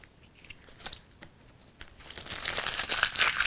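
Adhesive craft vinyl being peeled away at its outer edge, a soft crinkling and tearing that starts faint with scattered crackles and swells into a louder, steady rasp near the end, with no talking.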